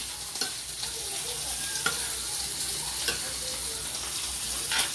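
Chicken adobo with crushed pepper sizzles in a pan while a spoon stirs it, with a steady close frying hiss broken by a few sharp scraping clinks.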